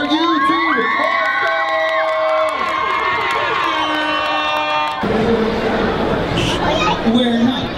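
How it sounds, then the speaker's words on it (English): A large crowd at a Minecraft convention cheers, whoops and shouts for YouTube stars, with excited voices rising and falling throughout; the noise stays loud and continuous. "Let's give it a big round of applause for our YouTube All-Stars!"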